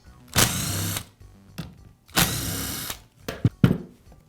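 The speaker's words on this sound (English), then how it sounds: "I'll remove the screws from the pad" A power driver on a Porter Cable sander's sanding pad, removing the screws: two whirring bursts of about half a second, then short clicks and a brief final buzz, close and fairly quiet.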